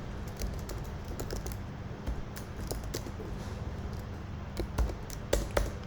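Code being typed on a computer keyboard: a rapid, uneven run of close, crisp key clicks over a low steady hum, with a few louder taps near the end.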